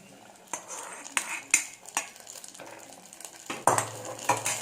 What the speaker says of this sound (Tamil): அப்படியே கொட்டி கிளறி விட்டுக்கோங்க